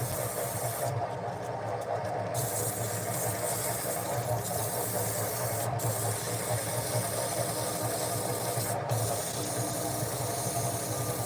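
A wooden hollow form being sanded on a lathe slowed to about 500 to 600 rpm gives a steady, dense whir and hiss with continuous motor hum and a few brief dropouts.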